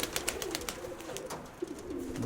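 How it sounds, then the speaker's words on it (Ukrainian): Pigeons coo nearby in a loft, soft repeated throaty calls running through the moment alongside faint rustling and clicks, with no one speaking. "Голубок."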